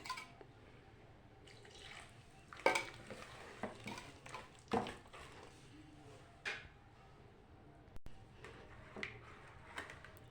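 A spoon stirs and beats batter for saj pitha in a bowl, making soft irregular scraping and tapping knocks at close range.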